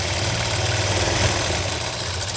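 A sewing machine runs steadily while stitching down the centre of elastic on a Guddi cut salwar, giving a continuous close motor hum with a low rhythmic drone and no talk.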